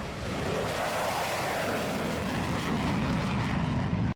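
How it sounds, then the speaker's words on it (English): An F-22 Raptor fighter jet taking off from a runway, a loud, broad roaring rush that holds steady for several seconds before cutting off abruptly. "Well guys, there you have it, the mighty F-22 Raptor."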